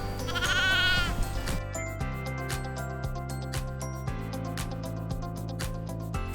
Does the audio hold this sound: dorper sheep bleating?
yes